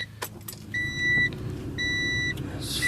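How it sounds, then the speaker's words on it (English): A Honda Prelude's door-open warning chimes in two evenly spaced electronic beeps inside the car, over a low engine idle and some handling noise. "This fucking door beeping."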